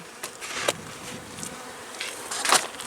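Honeybees buzz around an open hive as it is being closed up in early March, several bees passing near in brief rising and fading whines over a soft hum, no voices.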